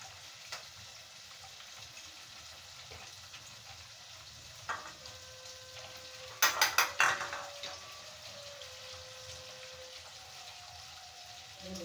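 Masala spices fry in a home kitchen pan with a steady low sizzle throughout, briefly joined by a few sharp clinks of utensils against the pan.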